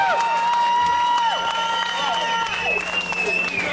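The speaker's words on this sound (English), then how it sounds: "Big round of applause." An audience claps and cheers for a band in a lively burst of applause with whoops and shouts mixed in, fairly loud and continuous, over sustained ringing tones.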